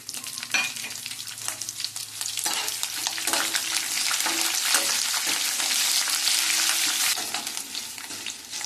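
Vigorous sizzling and spattering as tempering spices, curry leaves and slit green chillies fry in hot oil, with occasional clinks of stirring, loud and unbroken throughout.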